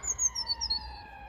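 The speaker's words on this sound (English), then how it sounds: "I just waited for the siren to pass" An emergency vehicle siren passes near a London park in early spring, its wailing tones clear and fairly loud over a low rumbling background.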